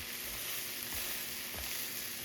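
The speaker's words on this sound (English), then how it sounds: "You can hear them sizzling." Chicken patties sizzle steadily in a hot, oiled frying pan, a constant crackling hiss with faint occasional scrapes.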